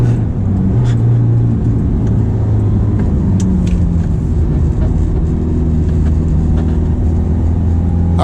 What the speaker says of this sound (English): we'll put it in sport mode this time and see how she does